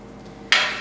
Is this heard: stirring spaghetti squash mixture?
yes